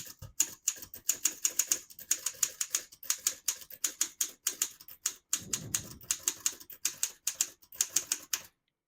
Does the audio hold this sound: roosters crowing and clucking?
no